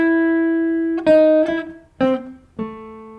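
The simple melody of a jazz chord-melody example returns on electric guitar, four or five clean, ringing single notes spaced a beat or so apart, played close with nothing else heard.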